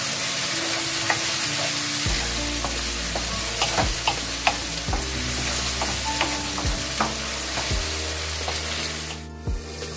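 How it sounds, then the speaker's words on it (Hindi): Garlic-ginger paste frying in a pan for an aloo gobhi matar dish, a constant close sizzle with scattered spoon clicks and scrapes and a background hum, ending in a brief dip. Nobody speaks. "और इसके साथ ही हमने इसमें ये लहसुन अदरक का पेस्ट भी डाल देंगे। खुद डाल के भूनेंगे थोड़ी देर के लिए।"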